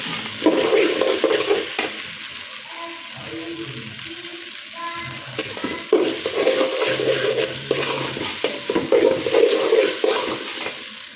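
Rice and raisins frying in oil for a white pulao, a loud crackling sizzle broken by scraping stirs that come and go throughout.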